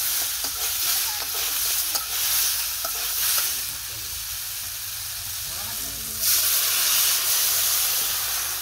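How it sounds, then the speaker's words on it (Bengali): Water poured into a frying pan of sizzling fish curry, a steady frying hiss with stirring scrapes that swells into a louder, steamy burst of sizzle near the end, close and alone. "এই যে কষানো হয়ে গেছে, জলটা দিয়ে দিই।"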